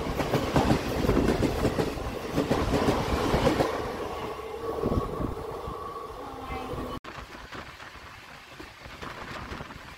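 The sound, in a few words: Rupasi Bangla Express train running on rails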